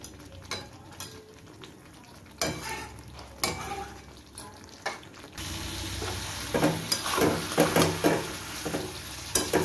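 Rohu fish pieces in korma gravy stirred in a hot pan: gentle spoon scrapes and bumps over a frying sizzle that grows louder and fuller partway through, close and without talk.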